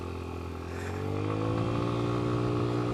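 A scooter's small engine drones loud and close at full throttle while riding, its pitch climbing slightly as it accelerates.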